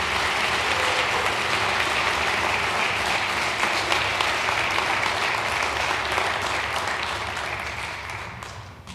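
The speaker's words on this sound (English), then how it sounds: "how about a big round of applause for all of our awardees and honorees?" A room of attendees at a city Board of Aldermen meeting applauds awardees and honorees, producing dense, steady clapping that holds strong for several seconds before gradually tapering off.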